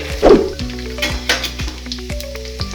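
Cumin seeds and garlic hit hot oil with a loud, close sizzle while preparing crispy Karnataka-style poha mixture. A spoon clinks against the pan and scrapes along it now and then.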